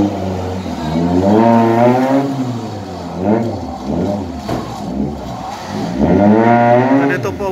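A loud, close engine revs hard in three surges, its pitch sweeping up and down with each throttle blip, at an engine-wrecking event in Balahaw.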